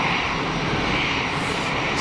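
An EasyJet Airbus A320ceo jet airliner roars steadily at an airport, a continuous broadband engine rush that stays loud and close throughout with no pauses.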